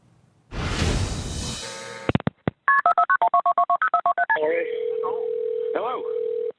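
A cell phone dials a 911 call: a rush of noise, then a quick run of about a dozen sharp keypad tones, followed by a steady ringing tone with brief voices over it.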